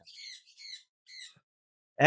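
Talking parrot at a bird breeding park with cockatoos and macaws, giving three bursts of harsh squawking close by, followed by a sudden loud noise at the end.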